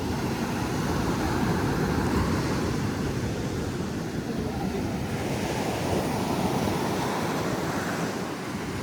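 Ocean waves break at Kaup beach on the coast near Udupi, a continuous surf roar with gentle swells and some wind buffeting on the microphone, heard alone without speech.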